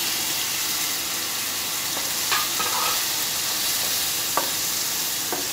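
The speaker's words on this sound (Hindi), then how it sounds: "मसाले को भूनेंगे।" Spiced masala with chopped tomatoes and a splash of water fries in a pan for bitter gourd curry, a constant even sizzle with a few light spoon scrapes and taps scattered through it.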